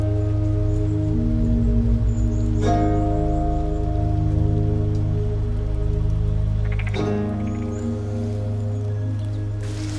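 Pouring rain falls steadily on autumn leaves outdoors, a dense, continuous wash that holds constant level throughout, with a few brief rustling bursts.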